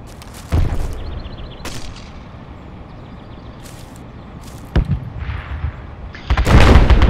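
A bomb planted on a car goes off in the military game Project Reality. Sharp booms and gunfire-like cracks punctuate a quiet backdrop, and a heavier blast rolls in near the end.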